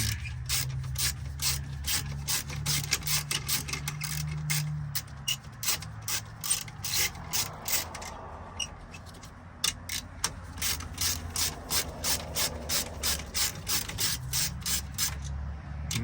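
Ratchet wrench clicking as it turns 10mm nuts on a Kenworth T680 steering wheel, rapid close-up bursts of ratcheting in several runs with short pauses and a low mechanical hum underneath.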